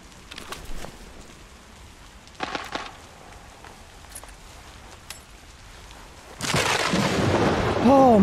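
Thunder during storm mode in the Arena Breakout video game: scattered distant rumbles and cracks early, then a loud surging roar of thunder building toward the end, with no talking.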